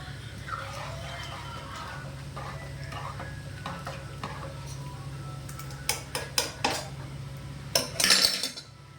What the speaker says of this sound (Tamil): கலந்துடலாம்.